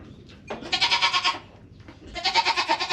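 A goat bleats loudly and close while eating, giving two long wavering cries separated by a brief pause, with no talk.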